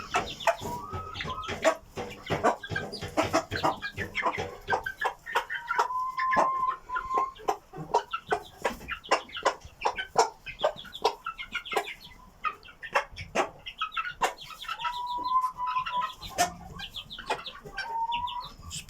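Chicks from a cross of Indian Parrot Beak and Brazilian Asil chickens, a busy flock of constant peeping and clucking with occasional longer calls, close and fairly loud, no talking.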